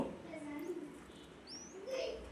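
Soft low coos of nesting pigeons sound nearby under faint chirps, quiet and intermittent against a muffled background.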